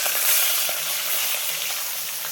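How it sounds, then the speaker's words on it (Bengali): Katla fish heads frying in hot oil give a steady, close sizzle with a broad hiss and faint bubbling crackles throughout, no voices. "আরও কিছুটা মুড়ো ভেজে নেবো, এখনও কিছুটা আছে"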